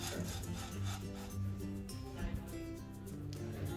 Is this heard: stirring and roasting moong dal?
yes